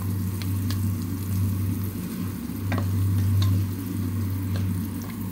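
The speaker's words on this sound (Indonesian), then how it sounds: "karena juga mau tumis daging sama bumbu-bumbu ini" Beef and spices sautéing in a pot, a steady close sizzle with a low hum running underneath and occasional light scrapes from stirring.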